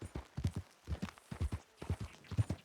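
Horse hooves clip-clop in Red Dead Redemption 2, a quiet, close, rhythmic run of paired hoof strikes at a steady walking pace, with no talking.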